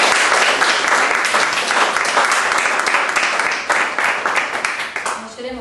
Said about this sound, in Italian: sta sera il nostro ospite è Dimitri Ruggeri, che vi invito a salutare con un applauso.